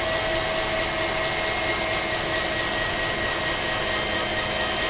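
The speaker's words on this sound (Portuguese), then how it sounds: "tá no máximo minha batedeira" An electric stand mixer runs at maximum speed, beating sponge cake batter with a steady, loud motor whir and broadband churning that holds unchanged throughout, with no voices.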